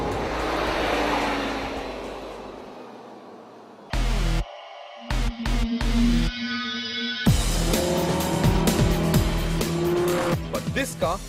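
A Lamborghini with a four-wheel-drive powertrain at an Indian track day, its engine roaring hard with tire squeal and revving between abrupt cuts, loud and close throughout.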